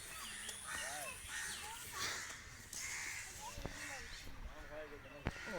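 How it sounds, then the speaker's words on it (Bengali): Crows cawing at Rangpur zoo, several harsh calls scattered over a few seconds at moderate distance amid outdoor crowd murmur and other bird noise, with voices talking faintly in the background. "কাক পাখি অনেক।"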